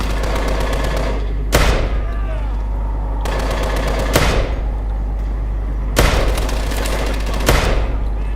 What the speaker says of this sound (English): you can actually aim with this pistol